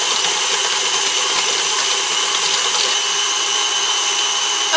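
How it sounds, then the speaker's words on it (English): An electric mixer beats sugar cookie dough made with sour cream, a steady, loud, unbroken whirring drone that runs throughout with no pauses or talk. "the more we beat it, the whiter and creamier it will become"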